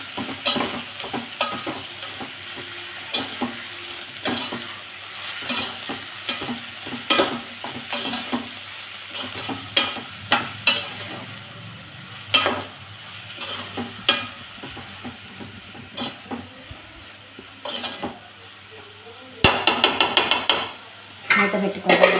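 Capsicum curry frying in a pan is stirred with a spoon, producing steady close scraping and clattering strokes over a light sizzle, growing louder and busier toward the end.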